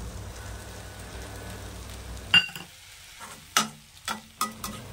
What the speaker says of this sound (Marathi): थोडे भाजून झाल्यानंतर आता यामध्ये उर्वरित जे आपण टोमॅटो ठेवलेले आहेत ते देखील यामध्ये ॲड करायचे आहे